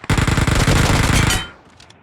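A video-game machine gun with a 100-round magazine fires one rapid, loud burst of about a second and a half, then its echo fades out, with no talking.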